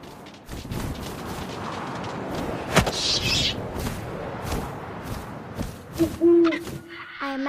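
An owl hoots in the video game What Remains of Edith Finch over a windy outdoor ambience, with a few sharp thumps and one brief near, loud call near the end.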